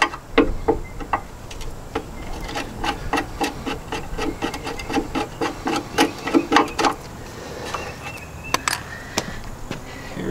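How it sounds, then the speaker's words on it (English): Screws are worked out of a VW Type-3 engine that has loose cylinder heads, producing a steady run of close, crisp ticks and scraping metal rubs that repeat rhythmically for about ten seconds, with no voices. "Let's continue taking these screws out."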